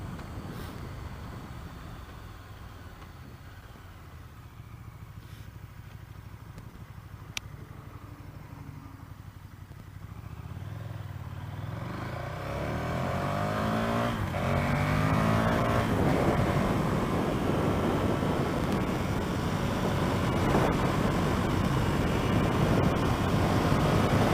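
A 2016 KTM 1290 Super Duke motorcycle engine idles and burbles, then revs up into a loud, rising roar that builds and stays strong, heard up close.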